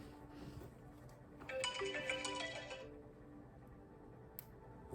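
A phone ringtone goes off in the middle of a tarot card reading, a bright burst of ringing that swells for about a second and then cuts off, over a quiet room.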